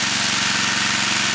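A 7.8 horsepower generator engine running on gas from a homemade wood-pellet gasifier, close and loud, with a steady rapid chugging pulse and a bright mechanical hiss over it, running without pause.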